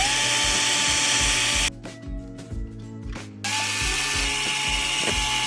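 A small power drill whines steadily while boring holes in a plastic fingerboard deck, its pitch dropping and catching for a stretch in the middle before it runs smoothly again, close and loud.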